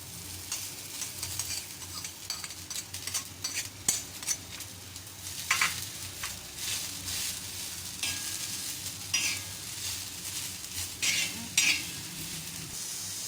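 A large onion and half a bunch of fresh coriander stirred on a dry griddle without oil for Hyderabadi green chili salan, a soft steady sizzle broken by repeated close scraping and stirring strokes, no speech.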